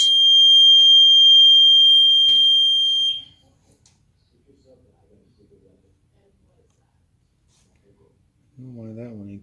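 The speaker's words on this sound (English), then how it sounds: "The beeper works." A warning beeper on a 2001 Sea-Doo GTX DI 951 watercraft sounds as a loud steady high-pitched tone for about three seconds, followed by near silence with faint knocks and then a voice starting to talk.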